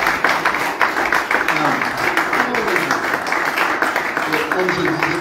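A church congregation applauding in a steady, dense wash of clapping, with voices talking and calling out over it.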